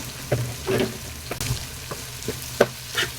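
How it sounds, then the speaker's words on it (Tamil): Onions and tomatoes sauté in a pan for a prawn fry, a close, soft sizzle punctuated by intermittent spatula scrapes and stirring strokes at an uneven rhythm. "வெங்காயம் தக்காளி எல்லாம் கொஞ்சம் வதங்கி தக்காளி வந்து சாஃப்ட் ஆகிற வரைக்கும் நல்லா வதக்கிக்கலாங்க"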